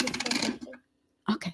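Coins dropping close to a microphone: a loud metallic jingling clatter, a pause, then two more short clinks.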